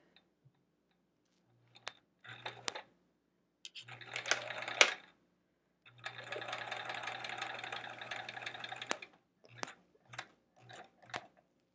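A sewing machine stitching a quilt block in short bursts of rapid mechanical whirring, separated by pauses and single clicks, with one longer run of about three seconds; close and moderately loud with no talking.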